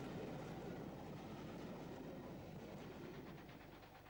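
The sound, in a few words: trains climbing a railway gradient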